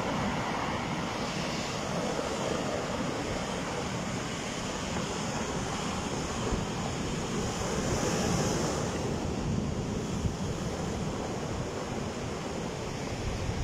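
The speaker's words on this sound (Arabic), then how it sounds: "شوفوا يعني كاين تكسر ديال البحر بشكل كبير" Rough, heavy sea surf crashing continuously against the Casablanca shoreline beside the Hassan II Mosque, a loud, dense roar of breaking waves with wind buffeting the microphone and no voices.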